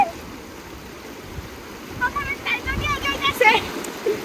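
A stream's current rushes over stones at Bholaganj in Sylhet in winter, a steady close wash of water, joined after a couple of seconds by a voice talking over it.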